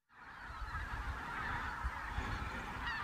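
Flocks of migratory birds honk and call continuously on the Poyang Lake mud flats, a dense goose-like chorus at moderate distance with no voices.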